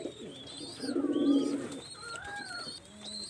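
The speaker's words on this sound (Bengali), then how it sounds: "এখানে একটা টপ কোয়ালিটিটা মাস্টার পেয়ার কবুতর রয়েছে" Domestic pigeons of a top-quality master breeding pair coo in a low, rounded, rolling run of calls, close and fairly clear, with a few faint chirps around them.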